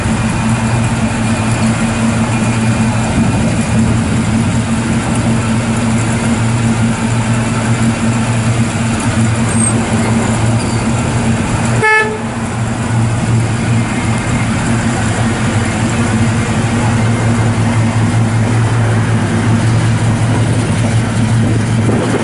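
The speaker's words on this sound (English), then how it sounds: "Thing fires right up. Got 350 in it." A 1972 Chevrolet C10 shortbox with a 350 V8, turbo 350 transmission, factory ram horn exhaust manifolds and dual exhaust idles steadily with a deep, even rumble, with a brief click partway through.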